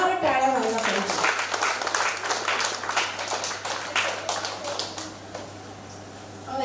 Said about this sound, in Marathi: त्यांच्यासाठी समस्त श्रोतृवृंदाकडून एकदा जोरदार टाळ्या व्हायला पाहिजे.